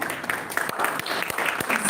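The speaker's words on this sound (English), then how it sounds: "I want you to give a mighty clap to the Lord." A church congregation claps for the Lord, a brief burst of brisk, fairly loud hand claps with uneven overlapping beats.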